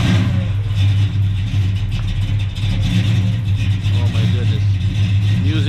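A Dodge Challenger Hellcat widebody engine idles with a deep, heavy rumble and swells into a couple of revs, loud and close, while someone talks over it.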